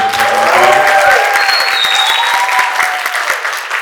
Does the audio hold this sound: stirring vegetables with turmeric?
no